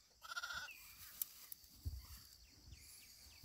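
A week-old ewe lamb gives one short, whiny, high-pitched bleat, quiet and close, followed by faint rustling and soft thumps in a barn.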